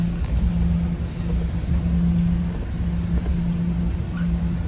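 Freight train near Mount Albert rolling along with its caboose, a steady low rumble and clatter of wheels on rails with a faint high squeal, close and continuous.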